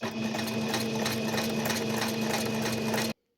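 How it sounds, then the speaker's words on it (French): A sewing machine runs steadily and close, stitching a straight seam through fabric scraps for washable wipes, with an even mechanical whir that stops abruptly at the end. "On redescend le pied et on continue la couture."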